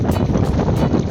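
Strong wind roars steadily against the microphone at night before rain, a loud, unbroken buffeting rush with gusts swelling every few tenths of a second.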